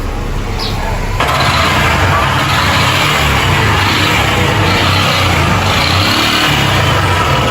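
A motorcycle engine running rough with a loud, terrible mechanical noise, a steady broadband roar that holds close and continuous throughout, with no talk over it.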